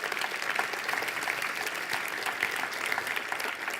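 A church congregation claps hard for God, a dense, sustained round of many hands filling the room evenly from start to finish, with no voices over it.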